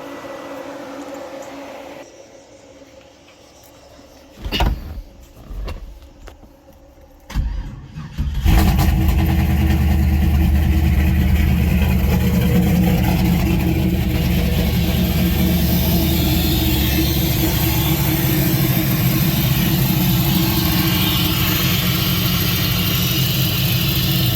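A Chevy S10 truck's 5.3 V8 engine cranks in a few short bursts, catches, and settles into a loud, steady rumbling idle that fills the rest of the recording, close to the microphone with no talking.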